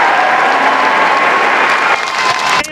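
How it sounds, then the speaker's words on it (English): An audience giving a standing ovation, a loud, dense wash of clapping that holds steady before briefly dipping and tapering near the end. "the audience responded eagerly with standing ovation and applause"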